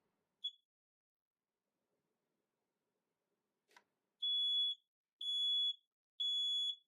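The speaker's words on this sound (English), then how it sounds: "that test tells me that the smoke alarm and the carbon monoxide function are both working" Smoke and carbon monoxide alarm on test, mounted in a van with a propane stove: a short chirp, a brief knock, then three long, loud, piercing beeps in steady succession.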